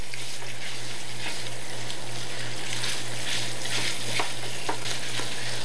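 Sausage frying in oil and butter for a wild game recipe, a steady broadband sizzle with scraping and stirring taps as a spatula breaks up the meat, under a constant low hum.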